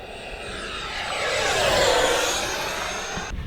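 FMS F-16C 70mm EDF radio-controlled jet on a 6S battery passing at full throttle, a steady whooshing ducted-fan whine that swells as it nears, peaks, then fades slightly as it moves off.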